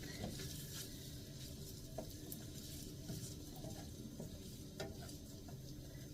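Wood ear mushrooms and glass noodles stir-fried in a pan, giving a steady soft sizzle with repeated light scrapes and taps of the utensil against the pan, close by and with no talking.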